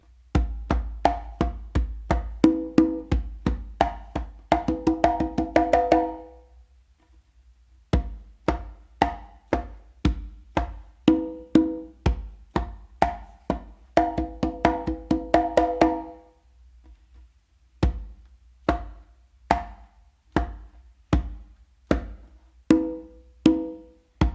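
Congas play a tumbao combination in a steady, fast stream of slaps and open tones, with a brief pause partway through before the pattern resumes; near and dry, with no voices.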